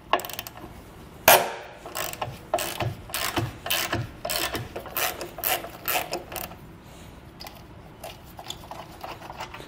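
A hand ratchet loosens 13 mm bumper beam bolts on a 2017 Volkswagen Golf Alltrack, with a sharp initial clack followed by a run of rapid, close clicking pawl strokes that trail off toward the end.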